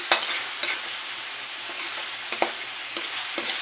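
Menudo with soy sauce is stirred in a sizzling pan, a constant frying hiss broken by several scraping strokes of the spoon at irregular intervals, close and clear without talk.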